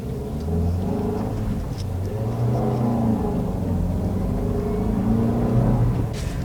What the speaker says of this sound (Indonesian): akselerasinya ini dari gigi 1 nih.